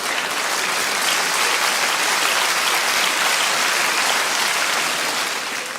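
A theatre audience at a stand-up comedy show claps loudly and continuously, a dense even wash of applause that holds steady throughout without pause.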